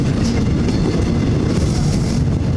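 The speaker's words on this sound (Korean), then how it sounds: "하루에 이곳을 지나는 열차만 무려 210여 편" A train rolls through Iksan station in South Korea, a loud, continuous low rumble of wheels on rails with a steady rushing roar and no pauses.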